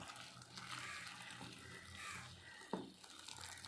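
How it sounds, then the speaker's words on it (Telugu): Freshly boiled water is poured into flour to make dough for crispy fried jantikalu snacks, a short close splashing pour over a soft background hiss. "ఇప్పుడు మనం ఎసర మరిగిపోతుంది మనం నీళ్ళు పోసేద్దాం"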